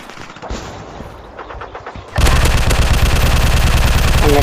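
Gunfire in a mobile offline shooting game: scattered single shots at first, then a sudden loud burst of continuous rapid automatic fire that carries on to the end.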